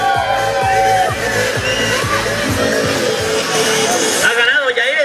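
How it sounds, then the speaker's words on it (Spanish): Crowd shouting and cheering at an enduro motorcycle race in Temascalcingo, loud and continuous, with revving motorcycle engines and an announcer talking over it. "¿Qué dicen esos gritos?"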